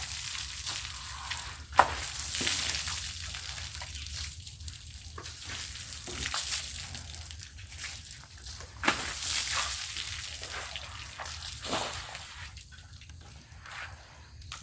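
Water splashes and pours over an elephant being bathed, a steady wet wash of sloshing and trickling with occasional louder splashes throughout.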